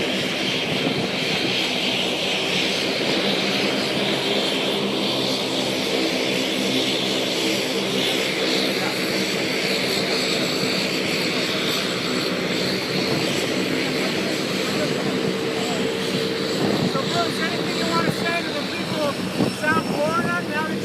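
Propeller airplane roaring overhead near an outdoor press gathering in Fort Lauderdale, a loud sustained drone that swells and shifts pitch as it passes, with people talking under it.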